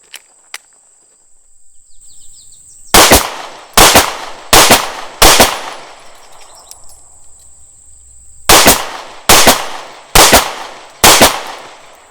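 Remington R51 pistol firing 124 grain Gold Dot hollow point rounds outdoors: two separate bursts of four loud, sharp shots each, evenly spaced, with a steady insect-like whine in the background and no talking.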